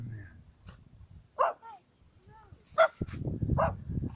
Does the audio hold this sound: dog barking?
yes